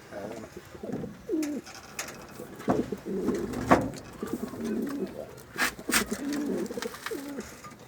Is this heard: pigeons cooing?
yes